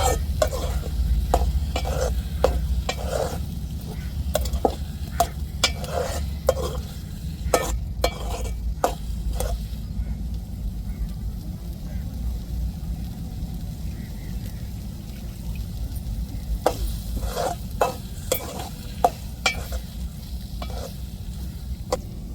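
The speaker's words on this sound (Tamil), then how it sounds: "காய்ச்சின பாலை இப்போ நம்ம வெல்லம் ரவையோடு சேர்த்துருவோம் சேர்த்து நல்லா கிண்டி விடுவோம்" Semolina, jaggery and beetroot stirred in a pot as boiled milk is added, giving a soft continuous scraping and stirring with faint bubbling and irregular spoon clicks against the pan, close and steady with no voices.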